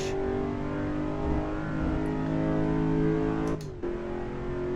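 A race car engine in the Assetto Corsa racing game holds a steady, loud drone as it accelerates, with a brief dip near the end like a gear shift, then keeps pulling.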